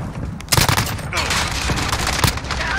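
A UMP-45 submachine gun fires in the video game Modern Warfare, with sharp, loud bursts of rapid shots and booming impacts over a noisy background, while someone talks over the action.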